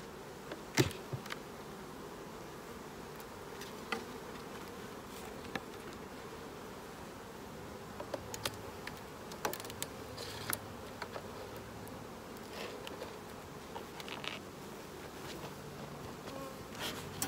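A steady, dense buzzing of many Saskatraz honey bees around an open hive, with scattered faint clicks and taps over the continuous drone.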